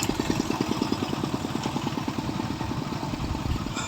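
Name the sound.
motorcycle engine running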